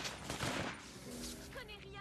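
Bursts of gunfire crackle in the game inFAMOUS 2, dense and loud in the first second, then scattered shots continue under a steady hum of the game's world.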